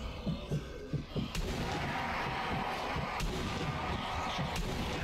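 Gunfire and heavy explosive booms from the video game Zombie Army Trilogy, dense continuous battle noise with sharp blasts standing out, loud and steady throughout.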